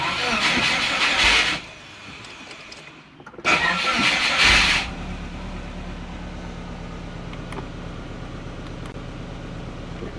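A Subaru Forester with an idle problem cranks and catches twice in a row, each start a loud burst of engine noise that settles into a steady, close idle rumble.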